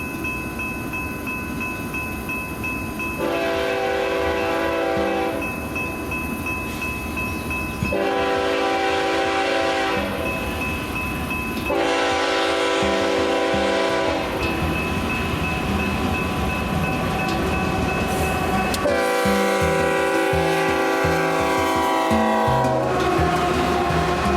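Freight intermodal train with a Ferromex AC44C6M locomotive as a mid-train unit, horn blaring in long repeated blasts over a loud, steady rumble of rolling cars and wheel clatter close by.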